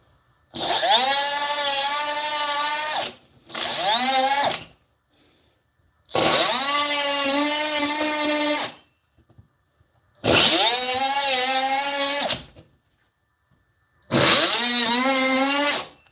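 Cordless cut-off tool, a Dewalt 20V DCS438 or Milwaukee M12 2522, cutting in five loud, close bursts of a few seconds each, whining high with a rising and falling pitch, separated by short silent gaps.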